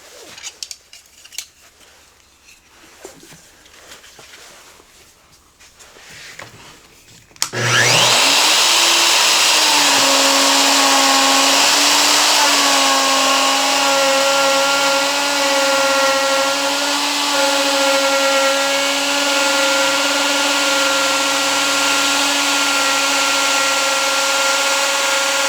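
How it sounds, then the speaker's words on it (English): A router spins up after some quiet handling noises and cuts a stop dado in a wooden board, its loud, steady high whine holding for the rest of the time with a faint shifting pitch as the bit moves through the wood. "I'm actually going to cut a stop dado this time with a router instead of going all the way through the end"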